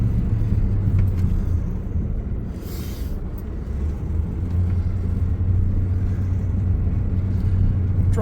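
Vehicle driving toward a burn pile, a steady low engine rumble close by with a faint brief hiss midway and no talk.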